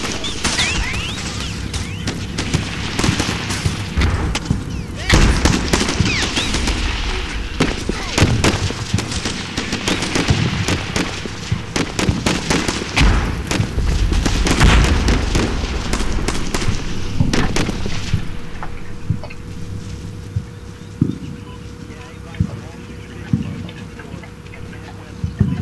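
Gunfire aimed at a building in the Combat Mission: Shock Force war game, with dense bursts of shots and heavier booms rattling in a busy, loud barrage that thins out toward the end.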